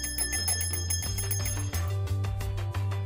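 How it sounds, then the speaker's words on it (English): A real bell rung through a motor shield attached to a Touch Board, a bright metallic ringing repeated in quick succession over a steady low electronic backing tone. "You could add a motor shield and ring a real bell."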